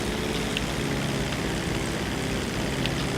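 A Dodo seaplane engine in GTA 5 Online roaring steadily at full throttle, a continuous loud propeller drone with no breaks.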